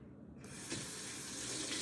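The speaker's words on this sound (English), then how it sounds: "We're going to fill this up to lukewarm water" Lukewarm tap water gushes into a measuring cup for cinnamon roll dough, a faint faucet hiss that switches on after a brief quiet moment and flows steadily to the end.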